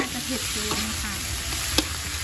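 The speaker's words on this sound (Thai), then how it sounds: "ขั้นตอนต่อไปเราก็ใส่พริกที่เราหั่นเตรียมไว้ได้เลยค่ะ" Chopped, seeded large chilies stir-fry in a pan with pork belly, a constant hiss of sizzling oil with soft scraping and stirring, while someone speaks briefly.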